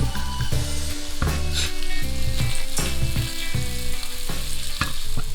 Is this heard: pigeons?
no